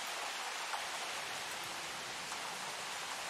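Steady rain hisses across the park in Jurassic World Evolution, an even, soft wash of falling drops with no breaks or voices.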